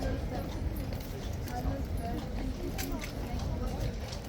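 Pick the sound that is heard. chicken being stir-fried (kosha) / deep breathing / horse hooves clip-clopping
horse hooves clip-clopping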